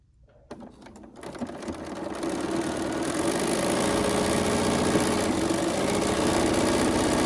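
A sewing machine stitches steadily along a seam toward a pin, its motor starting after a brief quiet moment and building to a continuous, close, even whir.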